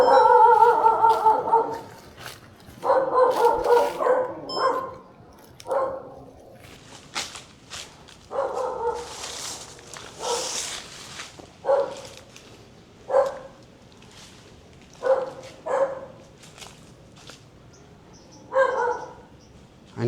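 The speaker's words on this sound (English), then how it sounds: "There are stray dogs everywhere." Stray dogs bark repeatedly in a cemetery, bursts of nearby and more distant barking arriving in irregular volleys with short gaps, alongside footsteps and faint birdsong.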